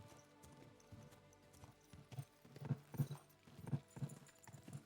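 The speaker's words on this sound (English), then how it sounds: "I don't need the whole W to ride my horse." Horse hooves clip-clopping in the video game Kingdom Come: Deliverance, a steady rhythmic trot of hoof falls that grows louder and more distinct, heard alone without talk.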